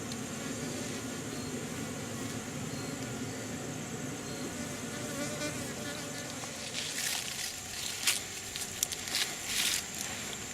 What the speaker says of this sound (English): Yellow jackets, they're everywhere.